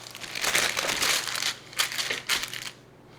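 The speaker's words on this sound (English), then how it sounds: "we're going to put this between two pieces of wax paper." Sheets of wax paper crinkle and rustle around a large raw chicken breast, close-up crackling in a few uneven bursts that stop into quiet.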